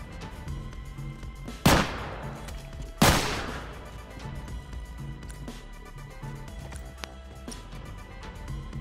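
Two sharp, loud rifle shots ring out about a second apart during a match of The Last of Us Factions multiplayer game, over a steady bed of game ambience.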